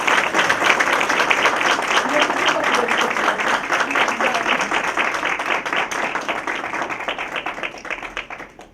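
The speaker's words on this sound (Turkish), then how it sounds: "Evet bir alkış alabilir miyiz?" An audience at an Edremit municipality award ceremony gives sustained applause, a thick bed of clapping that stays strong for several seconds and then fades, with a voice briefly audible underneath.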